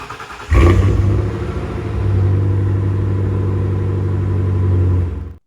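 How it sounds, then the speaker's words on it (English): A car engine cranks and catches, then settles into a loud, steady rumbling idle with a slight rev, close by and continuous until it cuts off. "I start it up all the time. Here, have a listen."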